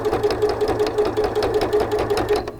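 A sewing machine stitches steadily through layered fabric for a microwaveable bowl cozy, a fast even mechanical chatter that is close and loud and runs without pause or voices.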